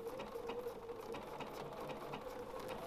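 Sewing machine running a triple stitch on a fabric doll panel, a faint, even mechanical whir with a soft rapid needle rhythm throughout, heard alone.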